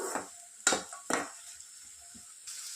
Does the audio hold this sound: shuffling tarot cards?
no